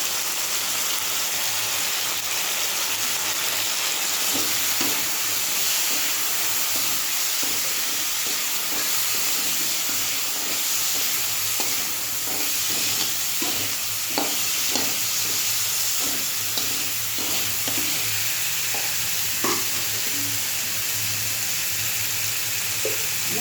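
Potatoes sautéing in a pan with turmeric give a steady, close sizzle with soft scraping and stirring clicks scattered throughout, no voices.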